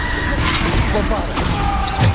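In the Hogwarts Legacy video game, a Bombarda spell bursts with a loud crashing impact, a thick, noisy blast layered over chaotic fight sounds, ending in another heavy thud.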